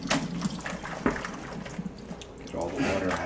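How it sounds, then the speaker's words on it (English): Cooked pasta shells and water are poured into a colander in a kitchen, giving an uneven run of splashing, trickling and dripping with a few sharper knocks, and a voice talks faintly underneath. "so I'm going to pour them back in the colander."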